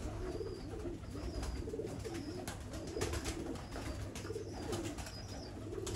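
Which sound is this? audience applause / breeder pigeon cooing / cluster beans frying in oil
breeder pigeon cooing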